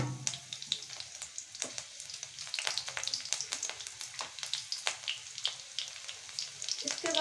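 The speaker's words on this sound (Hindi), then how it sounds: "मैं सरसों तेल डालूंगी। तेल गर्म हो गया, इसके बाद मैं डाल दूंगी कच्ची मिर्च" Chopped raw green chilies fry in hot mustard oil in a home kitchen, giving a continuous, busy sizzle with crackling pops and occasional stirring, close and fairly quiet, with no talking.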